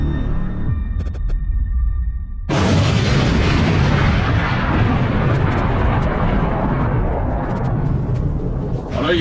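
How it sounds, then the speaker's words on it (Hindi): A bomb blast opens with a faint beeping tone, then a sudden massive boom erupts into a sustained, roaring rumble that stays loud and dense for several seconds, heard alone without voices. "लगता है कोई बम ब्लास्ट हुआ है।"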